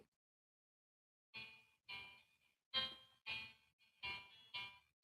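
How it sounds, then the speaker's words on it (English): A phone sounds its bedtime alert: six bright chime tones arrive in a quick irregular sequence after a silent start, clear and fairly close, with no talk. "Oh, that's my phone saying it's bedtime."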